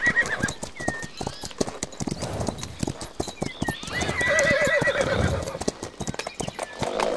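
Ridden horses clip-clop along with steady, close hoofbeats, and one horse whinnies partway through, with faint ambient sound in the background.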